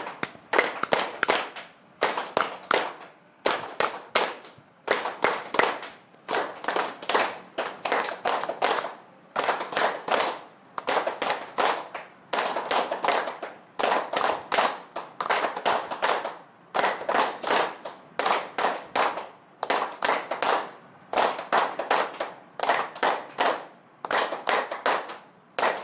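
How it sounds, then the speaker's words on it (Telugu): A group claps hands together in a steady rhythm, with sharp, evenly spaced claps repeating in short bursts over the whole stretch, close and clear with no talking. "కాబట్టి భగవంతుని మీ మనసులో తలుచుకుంటూ ఈ క్లాప్ చేయండి."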